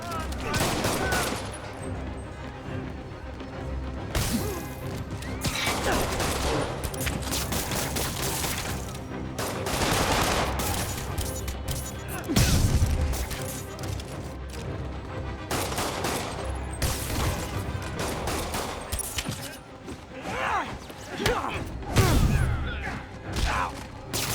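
Gunfire erupts in the Spider-Man PS4 video game, repeated bursts of rapid shots and fusillades that come in waves, loud and close, over a constant bed of game sound, with faint voices here and there.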